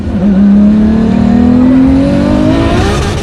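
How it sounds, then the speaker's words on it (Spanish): A Volkswagen six-cylinder engine roars at full throttle, its deep, loud, continuous note climbing steadily in pitch as it accelerates hard, with no voices over it. "El rugido grave y continuo de un motor de 6 cilindros acelerando a fondo."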